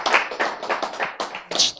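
An audience at a health lecture clapping hands, a quick, dense burst of claps for under two seconds, loud and close, with no talk over it.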